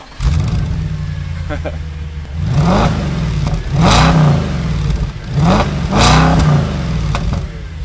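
An Audi S5 engine idles steadily, then revs up and settles back several times in repeated surges, loud and close, with a voice speaking briefly over it.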